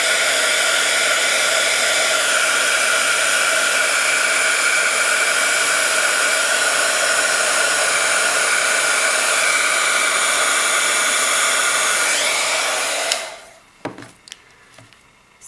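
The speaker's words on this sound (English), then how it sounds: "So since it's VersaFine ink, I'm going to go ahead and heat set that." A heat tool blows a steady, loud roar while heat-setting VersaFine ink on a scrapbook layout, running continuously for about thirteen seconds before cutting off, followed by a few faint clicks and handling sounds.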